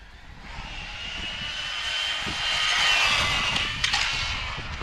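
An MJX Hyper Go H14M RC rally car runs at speed, its high-pitched electric motor whine rising and swelling, broken by a few sharp knocks and clatters as it jumps and lands.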